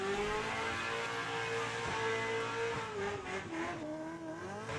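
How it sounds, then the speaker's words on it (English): Adam LZ's Corvette drift car roars at high revs as its rear tires spin and squeal at Mondello Park, a loud, sustained tire roast with a steady engine howl throughout. "Adam LZ just roasting the back tires on the Corvette"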